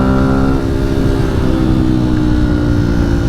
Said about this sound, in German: Ein großes Quad.